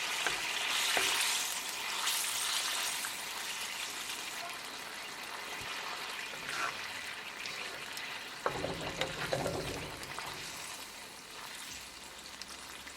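Lobster tail curry in gravy being stirred in a pan, with a continuous soft sizzle and bubbling plus occasional scraping of the spoon, close and moderately quiet, with no voices.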